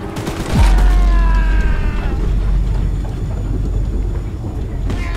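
A gun turret fires in the horror game Choo-Choo Charles, a booming blast followed by a sustained loud rumbling barrage with mechanical whine and tonal game sounds layered over it.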